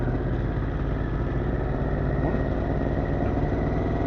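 A motorcycle engine runs close by, a steady continuous low rumble that holds at an even level from start to finish with no clear pass-by swell.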